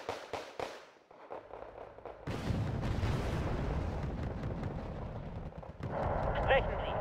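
Autocannon fire from a Moderna vehicle in the Wargame Red Dragon battlefield, heard as a string of sharp, close, loud bursts at the start, followed by dense rumbling combat noise under faint game voices.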